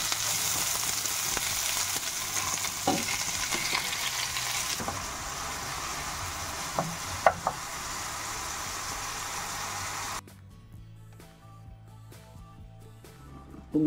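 Hot rapeseed oil sizzles and crackles steadily in a pan with a few sharp pops, then the hiss drops away to a quieter, thinner fizz near the end.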